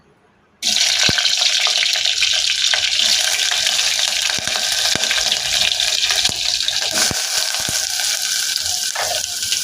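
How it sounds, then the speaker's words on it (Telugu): Chopped onion and green chili pieces hit hot oil in a pan, setting off a sudden loud sizzle that keeps a steady, even hiss with no talking. "నూనె కాగిన తర్వాత ఉల్లిపాయ పచ్చిమిరపకాయ ముక్కలు వేసుకోవాలి."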